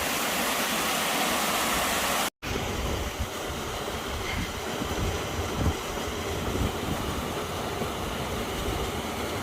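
Waterfalls roar beside a footpath on Saddleworth Moor, a steady, loud broadband rush of falling water that carries on throughout, with a momentary dropout near the start.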